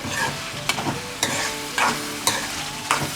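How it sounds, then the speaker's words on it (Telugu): Drumstick pieces fry in dal in a hot pan, a steady close sizzle broken by four or five sharp scraping stirs at regular intervals, with no voices. "ఈ విధంగా ములక్కాయ ముక్కలు పప్పులో ఒక నిమిషం ఫ్రై అవ్వాలి"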